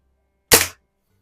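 A Daisy Red Ryder BB gun fires a Black Widow BB at a 7-yard target, one sharp, close, dry crack with a quick decay into silence.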